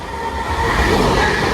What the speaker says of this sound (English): we have a passing Avanti West Coast service on divert running from Milton Keynes Central to Preston